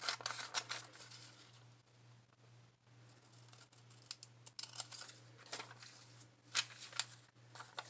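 Scissors snip through a paper image, cutting out a figure for a faux postage stamp craft, in a run of close, crisp clicks and crinkles with short pauses and no talking.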